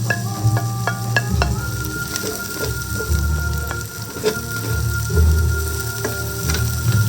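Garlic frying in a pan for arroz caldo gives a steady close sizzle with intermittent clinks of a utensil stirring against the pan, while a low rumbling hum runs underneath throughout.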